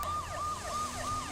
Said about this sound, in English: We're gonna figure out where this ambulance is headed that's so freaking urgent.